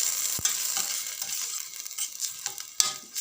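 Onions with leek and garlic sautéing in a pot for a vegetable and fish soup, a soft, steady sizzle with intermittent scraping and knocks of a utensil stirring the pan, fairly close.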